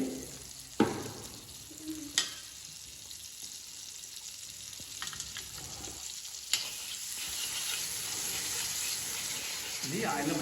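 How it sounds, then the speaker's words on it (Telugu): Greens cook in a little oil in a pan, giving a quiet, continuous sizzle with a few sharp clinks and stirring knocks, heard close by. "ఇప్పుడు దీంట్లో కొంచెం ఆయిల్ వేద్దాం కొంచెం కొంచెం ఆయిల్లో మగ్గాలన్నమాట"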